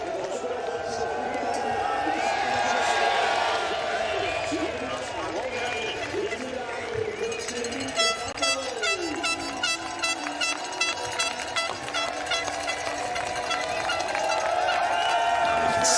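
Crowd cheering on a rider at the Women Under 23 final of the 2023 UCI Cyclo-cross World Championships: outdoor crowd noise and cheers rising and swelling beneath steady commentary, with a rattling, clattering stretch in the second half.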